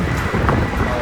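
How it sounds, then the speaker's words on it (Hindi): Strong wind buffets the microphone outdoors, a steady loud roar with low rumbling gusts throughout and no speech. "हवा चल रही है बहुत ज़्यादा।"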